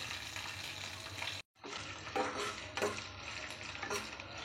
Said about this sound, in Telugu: ఇప్పుడు ఈ పోపు దినుసులన్నీ వేగిపోయినాయి